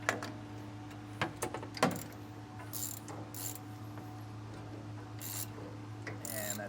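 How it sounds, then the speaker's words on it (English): A socket ratchet with a 14mm socket tightens a bolt on a leaf spring enhancement kit, giving scattered clicking pawl ratchets and metallic creaks against a steady low workshop hum, with occasional bursts of hiss. "we're with the 14mm socket and 24mm wrench, and we will just start tightening this down"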